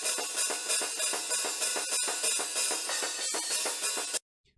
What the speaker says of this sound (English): Then we have the hi-hat.